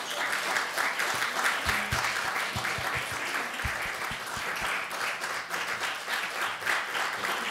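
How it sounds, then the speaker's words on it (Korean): Sustained applause from a church congregation welcoming Sunday school children as they come forward during a family worship service, a dense steady wash of many hands clapping with a few louder nearby claps. "큰 박수로 환영해 주시기 바랍니다"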